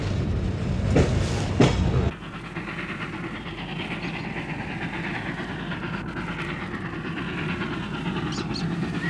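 A train carries Anatolian Turkish migrants westward through the Balkans, rumbling steadily along the rails with a continuous low roar. A louder burst marks the first two seconds, then a sustained, even rolling noise continues.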